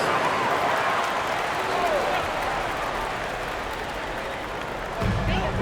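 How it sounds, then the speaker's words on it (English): Crowd applauding the Florida Gators dancers in a basketball arena, a dense steady wash of clapping and cheering that fills the whole stretch, with a louder surge near the end. "Let's give them a round of applause for the Florida Gators dancers"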